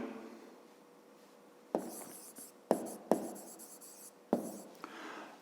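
Pen strokes scratch across paper in short bursts as a math expression is written out by hand, close and quiet, separated by brief pauses.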